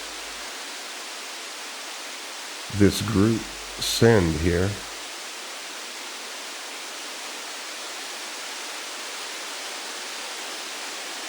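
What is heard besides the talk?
synthesized light rain sound effect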